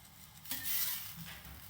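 Paneer-stuffed pesarattu cooking on a pan with a little ghee smeared on top, giving a soft, quiet sizzle with a brief louder burst of frying and light scraping, close by with no talking.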